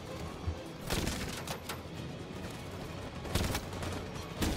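Gunfire in the Detroit: Become Human video game, with loud repeated bursts of shots and crackling volleys over a dense, noisy background.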